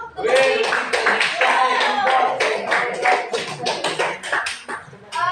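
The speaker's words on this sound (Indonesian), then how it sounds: "Tepuk tangan dulu." A classroom of students clapping their hands together, a loose, uneven patter of claps from a small group rather than a large crowd, with some voices mixed in.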